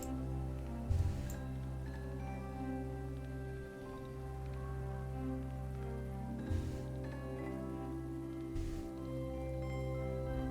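Steady rain ambience from the weather in the video game Book of Hours, a continuous soft patter running throughout under a low droning music bed, with a few brief louder swells.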